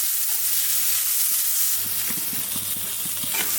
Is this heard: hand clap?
no